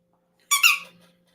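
A short squeak, likely furniture or a bed, inside a motel room: one brief, fairly close, high-pitched creak lasting about half a second, with quiet surroundings before and after.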